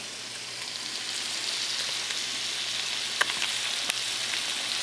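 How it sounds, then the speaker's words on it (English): Steady close-up sizzling of chicken frying in a hot wok, a constant crackling hiss with a few sharper pops, no talking. "It's kind of sizzling away."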